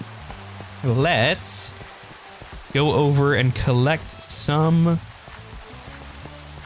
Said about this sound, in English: I want the rain to go away.